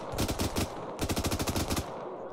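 Rapid automatic gunfire in Arma 3 comes in two close, loud bursts of evenly spaced shots separated by a brief pause.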